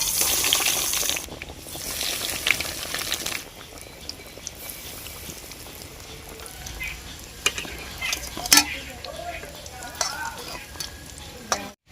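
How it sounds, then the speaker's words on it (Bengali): Chicken cutlets frying in hot oil in a kadai, a steady bubbling sizzle with louder crackling bursts at first, then calmer frying broken by occasional clinks and stirring sounds. "আমি এবার একটা একটা করে ভেজে নিব।"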